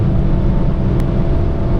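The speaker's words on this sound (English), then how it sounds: "We're making a lot of revs." A Lada Vesta engine revs hard during a lap of the Nürburgring, a steady loud in-car drone with a constant rumble throughout.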